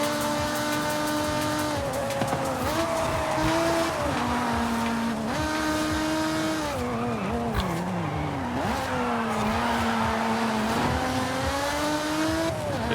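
Datsun and Bone Shaker race cars in Forza Horizon 5 roaring continuously close up, engines climbing and dropping through gear changes, with bursts of tire squeal and skidding, no talk.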